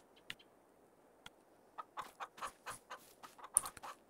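Chickens in the Farming Simulator 23 mobile game cluck softly, a few scattered clucks at first, then a quicker run of clucking calls over a quiet background.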